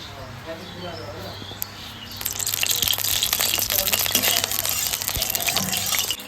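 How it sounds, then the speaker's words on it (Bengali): Oil goes into a hot wok before fish is fried, and a broad hiss builds suddenly and keeps up steadily. A low background hum runs underneath, and no voice is heard. "কড়াই গরম হয়ে গেছে আমি তেল দিয়ে দেবো"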